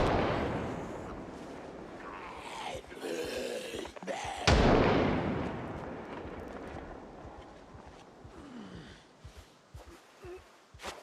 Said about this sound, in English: And they're shooting me.